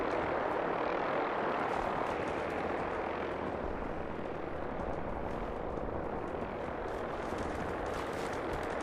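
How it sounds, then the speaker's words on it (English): Two Brotherhood of Steel vertibirds flying in Fallout 4, a loud, steady rotor and engine roar that carries throughout, close overhead with no speech. "Oh, we got 2 vertibirds."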